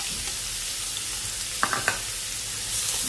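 Chopped onion and garlic fry in a pan with a steady, close hiss of sizzling oil, broken by three quick scraping taps of a spatula as the mixture is stirred.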